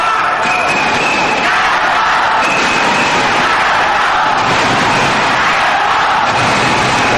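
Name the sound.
badminton crowd cheering at 2002 Thomas Cup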